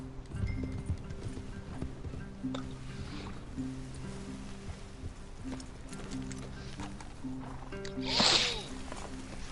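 Hooves clip-clop in a steady rhythm over a low musical drone in the video game Red Dead Redemption, with faint voices and a brief splash-like swell near the end.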